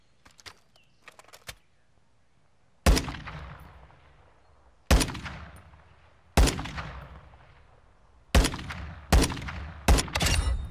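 Gunfire in the video game DMZ Warzone 2.0, a series of loud single gunshots spaced a second or two apart, each with a long echoing tail, after some quieter clicks and shuffling at the start.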